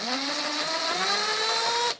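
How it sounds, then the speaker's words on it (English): A power drill drives a screw deep inside a Dell UltraSharp U3011 monitor. Its steady motor whine holds for about two seconds, the pitch drifting slightly, then stops abruptly. "I think I can get my drill in there."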